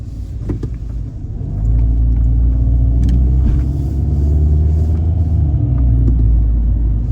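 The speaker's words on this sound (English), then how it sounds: "Now let's go drive around the neighborhood." A car cruising along quiet streets through a 1960s-era residential neighborhood in Bloomington, Minnesota, with a steady, loud engine and road rumble heard from inside and a brief dip before it settles into an even drone.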